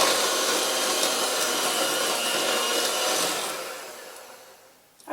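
An electric mixer beats regular flour into oat bar batter with a loud, steady, broadband whirring drone that fades toward the end before a brief bump.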